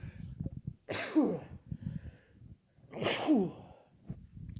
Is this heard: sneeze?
yes